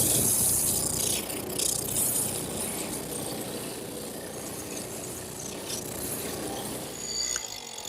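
A drum sander runs on wood with a steady, close mechanical whir and a faint rattling texture, continuous throughout with slight rises in grinding near the end.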